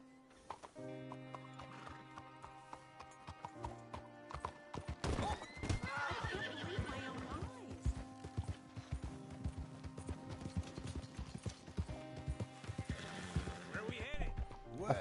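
A horse in the Red Dead Redemption 2 video game gallops with rapid, steady hoofbeats and lets out a loud neigh, over sustained background game music.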